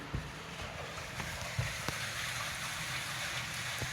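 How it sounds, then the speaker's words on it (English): Water runs and trickles through cracks inside a flooded, abandoned church, a soft continuous rushing flow with occasional faint drips, low in level and without speech. "Any little crack, you can hear water."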